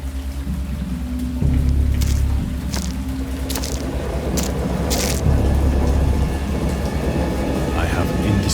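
A stormy scene in the game Dagon, with steady rain and rumbling thunder under scattered sharp cracks and splashes, while a voice speaks over it.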